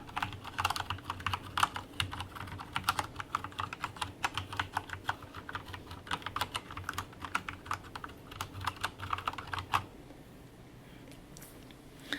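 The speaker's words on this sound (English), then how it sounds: "because I got the brown switches, the keys probably sound a little different, only a little bit" Continuous close typing on a Corsair K70 Lux RGB mechanical keyboard with brown switches, a dense run of crisp clacks and thocks with no voice, stopping abruptly near the end and leaving quiet room tone.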